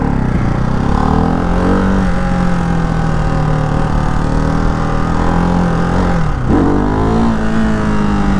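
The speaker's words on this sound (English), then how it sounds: "I love this quick shifter and auto blip. It's just so smooth, zero disruption." Ducati Hypermotard 698 Mono RVE single-cylinder motorcycle engine runs loud and steady while riding, pitch rising and briefly dipping around a quick-shifted gear change with auto blip, then pulling on smoothly.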